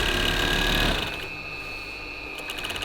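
A sewing machine runs in one steady whirring burst, closing the shoulder seam of a disposable protective gown. It sounds near and fairly loud, then eases to a softer hum, with no talk.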